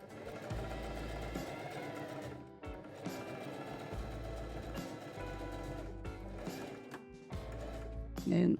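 A sewing machine stitches fabric in several pedal-driven runs with short pauses between them, a steady close whirr that starts and stops.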